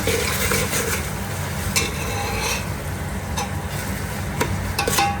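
A spoon stirs ginger garlic paste in a cooking pot for an egg pulao, with a continuous soft scraping and light sizzle plus occasional sharp taps of utensil against the pot.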